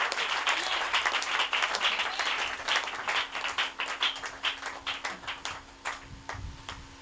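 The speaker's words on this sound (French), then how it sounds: "Donnez-lui une main d'acclamation" A church congregation at a French-language service claps in applause, dense at first and thinning into separate slower claps, moderately loud, with a low hum and faint voices beneath.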